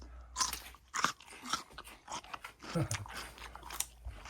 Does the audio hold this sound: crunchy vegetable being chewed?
yes